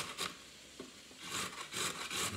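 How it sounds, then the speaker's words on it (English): Food being rubbed against a kitchen grater while cooking, heard as several short rasping scrapes in uneven bursts, close and fairly quiet. "Watch me grate my fingers now."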